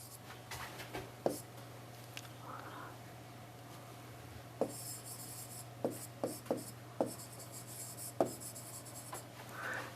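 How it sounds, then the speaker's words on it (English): Pen writing out a math problem on paper: faint scratchy strokes and sharp taps in irregular bursts, quiet and close over a low steady hum, with no talk. "I'll just write the problem"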